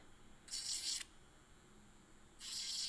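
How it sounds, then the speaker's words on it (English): An electric nail drill roughs up the surface of an acrylic nail in two short, quiet bursts of hissing, rasping grinding separated by a pause. "So that's why you're seeing me like drill into the nail a lot."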